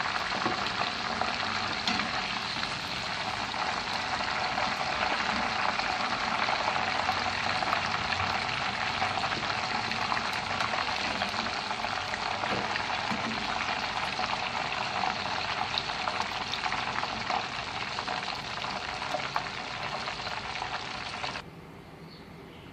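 Chicken fillets stuffed with cheese sizzle steadily in hot oil, a dense continuous frying hiss that holds level and close for about twenty seconds before dropping off abruptly near the end.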